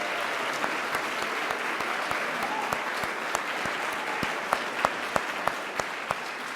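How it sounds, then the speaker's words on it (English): An audience at a North Braintree Civic Association candidates night applauds the candidates' family members, with steady sustained clapping and a few sharper, louder claps standing out toward the end. "let's have an applause for the family members out there"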